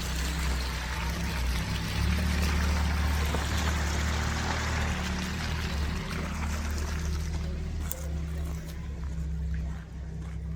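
Drinking water gushes from a damaged pipe into a muddy street in Nor Kharberd, a steady loud splashing pour close by, with a low engine rumble and occasional voices underneath.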